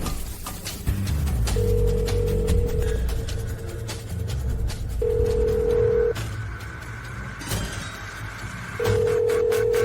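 A telephone ringback tone sounds while a call is placed, with steady tone bursts repeating at intervals over a busy background of music and ambient sound.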